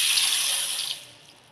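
Water poured into a vessel to soak jowar and dal for ambil gives a steady, close splashing rush for about a second, then tapers off quietly.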